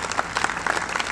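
Theatre audience at an award ceremony opening the Malta Festival in Poznań claps in a dense, lively burst of applause, close and continuous for the whole moment.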